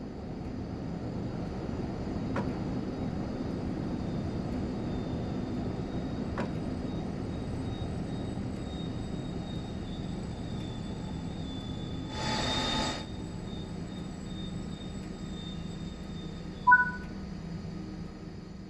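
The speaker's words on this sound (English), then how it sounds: "Bring the train to a stop now by applying the train brake." A passenger train in Train Sim World 5 braking to a stop, with a steady low rumble throughout, a brief hiss of brake air midway and a short squeal near the end.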